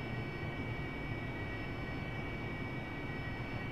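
An AV-8B Harrier jet engine in DCS World holds a steady, loud whine and roar with a constant tonal hum underneath, unbroken throughout.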